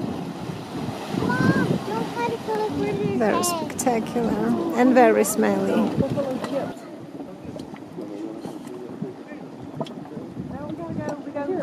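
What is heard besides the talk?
Grizzly Fumarole steam vent breathing, Mud Volcano, Yellowstone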